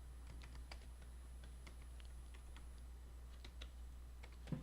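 Code being typed on a computer keyboard for a beginner Python lesson: scattered, light key clicks in an irregular rhythm, fairly close, over a steady low hum, with nobody speaking.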